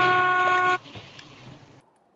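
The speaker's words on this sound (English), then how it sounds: "Our friend is honking." Car horn honking in the COD Mobile video game, one loud sustained toot that cuts off sharply, followed by quieter engine and game noise.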